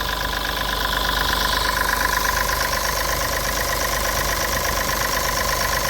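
A vehicle engine idles close by in a steady, even chug with a rattling mechanical tick, constant loudness throughout and no voices.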